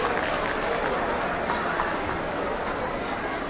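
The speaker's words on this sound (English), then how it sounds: "Let me give a round of applause to him." A gathered audience at a celebration event gives a round of applause for a facility secretary: dense, continuous clapping from many hands at moderate loudness, with scattered sharper claps and a faint murmur of voices underneath.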